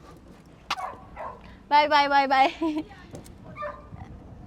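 A dog barks in a short burst of several quick, near yelps, with people talking before and after.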